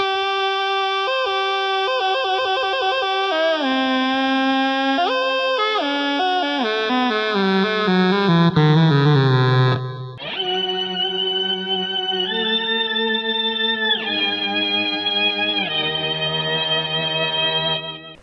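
An Otamatone, run through guitar distortion and echo effects, sings loud wavering buzzy notes with sliding pitch bends and trailing echoes, a continuous melodic line with no talking.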